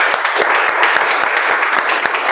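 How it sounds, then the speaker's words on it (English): A small meeting audience gives a short burst of applause for a speaker who has just finished a first speech, with steady, evenly paced claps close by. "give him a big round of applause"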